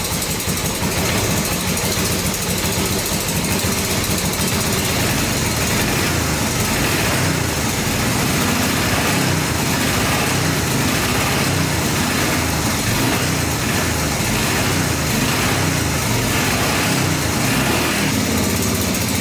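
A 4x4 ATV engine idling steadily up close, a loud, even rumbling putter that holds constant with no talking.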